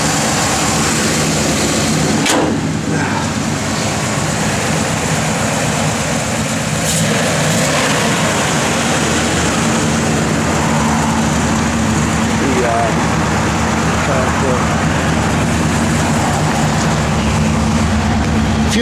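A 1966 Pontiac GTO with a 389 V8 runs steadily, a loud, close, continuous engine rumble with a couple of sharp knocks early on, and a voice is heard over it.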